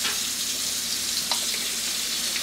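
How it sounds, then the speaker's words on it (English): A little oil goes into a frying pan for a late-night breakfast, producing a steady, close sizzling hiss for a couple of seconds with no talking. "I'm gonna put some oil in the pan"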